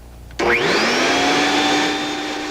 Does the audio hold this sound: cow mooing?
no